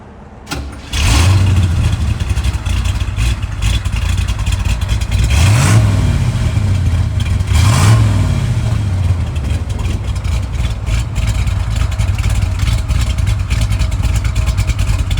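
A 1968 Chevrolet Camaro Z/28 V8 cranks and fires, then settles into a loud rumbling idle broken by two sharp throttle blips, close and steady to the end.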